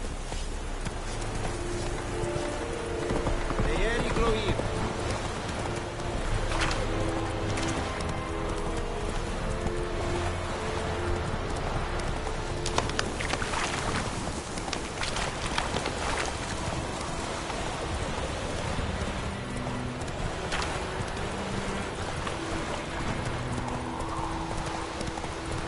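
Video game horse galloping steadily, a fast continuous clip-clop of hooves close up with an occasional whinny, over rain and game ambience, with no talking.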